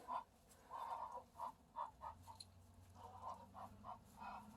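Muscovy ducks breathe heavily and hiss close by in a series of short, breathy bursts, faint and irregular, with no voices.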